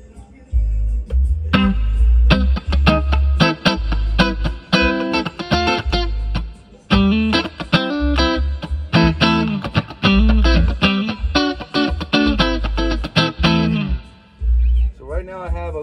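Electric guitar through a Twin Reverb II amplifier with heavy reverb and distortion, loud chords and single notes ringing out with long, washy tails.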